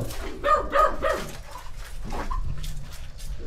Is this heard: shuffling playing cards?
no